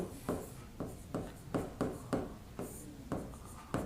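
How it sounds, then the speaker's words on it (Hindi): Chalk or marker writes on a board in a steady series of about a dozen short scratchy strokes, close and distinct, with no voice over them. "आगे मैं लिख रहा हूं"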